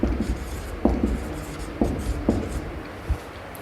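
Marker or chalk strokes on a classroom board during a Class X English grammar lesson, a few short scratchy writing bursts spaced about a second apart, close and fairly quiet.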